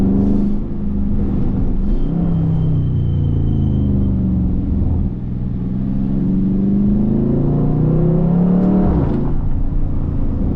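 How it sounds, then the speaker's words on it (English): A Dodge Charger Scat Pack's V8 rumbles loud and close from inside the car while driving, its deep drone rising and falling through a couple of throttle swells and shifts, steady and with no talking. "it's unbelievable how loud this car just gets"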